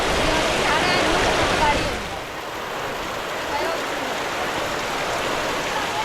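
Heavy rain falls in a Konkan market during a storm, a steady broadband hiss that is loud at first and then eases to a softer, continuous patter, with a voice talking over it.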